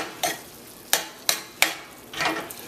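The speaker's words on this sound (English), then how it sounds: "Give that a quick stir" Tomato and saltfish stirred in a frying pan: a soft sizzle under four or five distinct scraping strokes of a utensil against the pan, spaced unevenly and close by.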